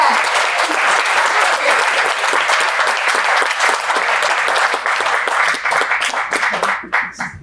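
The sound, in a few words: audience applause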